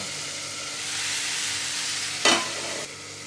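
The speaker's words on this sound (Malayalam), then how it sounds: "വെളിച്ചെണ്ണ നല്ലപോലെ ചൂടായി വരുമ്പോൾ അതിലേക്ക് കടുക് ഇട്ട് പൊട്ടിക്കണം." Mustard seeds spluttering in hot coconut oil in a pan, a steady crackling sizzle with one sharper burst of popping near the end, close and alone.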